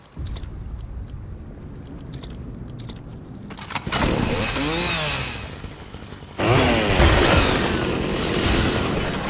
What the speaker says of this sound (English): Finally get the chainsaw